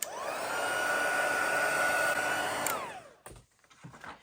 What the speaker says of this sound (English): you can obviously bring in your heat tool